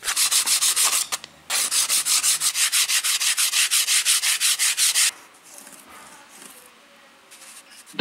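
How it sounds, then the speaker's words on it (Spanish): A thin wooden board has its edges and rough spots sanded by hand in quick, steady back-and-forth strokes for about five seconds, loud and close, then stops and leaves only faint handling noise. "Y lijamos los filos y asperezas que pueda tener."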